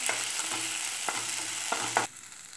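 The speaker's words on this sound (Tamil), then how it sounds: "புதினாவை ஒரு 2 மினிட்ஸ் நல்லா ஆயிலில் ஃப்ரை பண்ணுங்க" Mint leaves fry in oil for mint rice, giving a steady close sizzle. A few sharp stirring scrapes break through before the sizzle suddenly drops away near the end.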